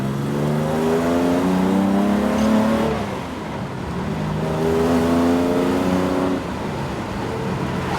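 A Valiant Charger E49 R/T engine pulls hard nearby, its pitch climbing through gears with brief dips between shifts, a loud continuous rumble throughout.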